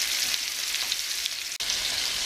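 Sausage, onions and peppers fry together in a pan, a close, steady crackling sizzle with one brief dip near the end.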